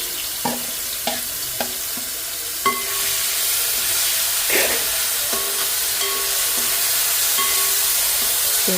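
Small onions (shallots) fry in oil for a Kerala Alappuzha-style fish curry. A few sharp taps of a spoon on the pan come first, then a steady soft sizzle sets in under occasional clinks and scrapes.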